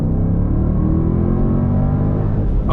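Engine of a 2022 Mercedes-AMG SL63 with active exhaust, heard from the cabin as a loud, steady, close-up rumbling rev held throughout, rising slightly in pitch as it climbs.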